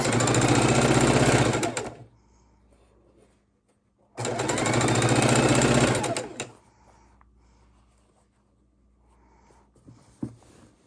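A sewing machine stitching through a large precut quilt in two loud sustained bursts of rapid whirring, each about two seconds long, separated by quiet pauses with faint handling noises.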